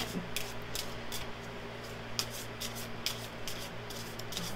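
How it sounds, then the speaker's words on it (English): Botanical Inspirations oracle cards are shuffled by hand in a quiet room, giving a steady series of soft riffling, flicking bursts over a faint constant hum. "let's shuffle up the Botanical Inspirations cards"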